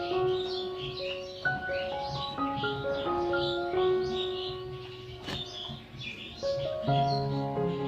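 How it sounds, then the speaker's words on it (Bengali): Birds chirp and twitter in the morning, bright bursts of calls recurring throughout, mid-distance and steady, over sustained melodic tones. "সকালবেলায় পাখির ডাক শুনতে খুব ভালো লাগে"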